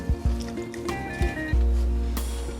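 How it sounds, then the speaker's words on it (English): Wet corn husks lifted out of a bowl of water and shaken, giving a few close splashes, drips and squishy thumps, followed by a brief rush of dripping water near the end. "We'll be able to take our corn husks out of the water, shaking off any excess."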